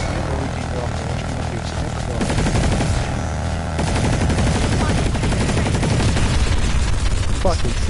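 Sniper and other gunfire in the video game Planetside 2 plays as a dense, loud, continuous battle din with rapid rattling shots and an engine-like roar underneath, with no clear talk.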